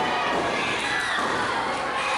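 Dense, loud crowd chanting and cheering at an independent wrestling event, a continuous roar of many voices with shrill shouts mixed in.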